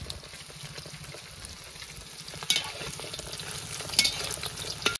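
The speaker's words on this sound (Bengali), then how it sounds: "বন্ধুরা কমপ্লিট হয়ে গেল মাছ ভাজা।" Fish pieces frying in a pan give off a steady oil sizzle, with a few sharper crackles and spatters toward the end; nobody speaks.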